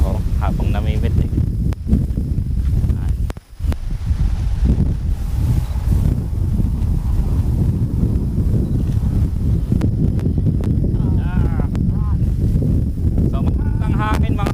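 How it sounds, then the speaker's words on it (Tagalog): Steady wind roars across a microphone, broadband rushing noise throughout with a brief dip partway, and faint rustling in the background. "magandang hangin"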